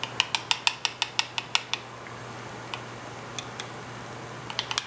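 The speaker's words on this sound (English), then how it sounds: "Gonna mix it and make it a nice sauce." Spoon clinking rhythmically against a bowl while stirring mayonnaise and ketchup into a sauce, a quick run of bright taps that stops, then a few scattered clicks; close and clear, no voices.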